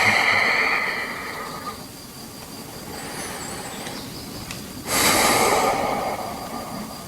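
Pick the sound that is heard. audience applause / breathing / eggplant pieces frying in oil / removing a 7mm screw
breathing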